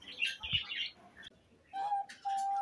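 Pet diamond doves and finches in a cage give a few short, bright chirps and a couple of sustained whistled notes, close and fairly clear, with quiet gaps between calls.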